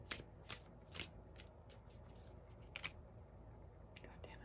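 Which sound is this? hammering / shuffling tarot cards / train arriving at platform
shuffling tarot cards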